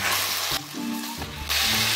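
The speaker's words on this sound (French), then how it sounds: "Je vais venir rajouter notre poisson haché. Et je mélange tout simplement." Minced fish sizzles in a hot frying pan while being stirred, a steady crackling hiss that eases briefly in the middle and then returns.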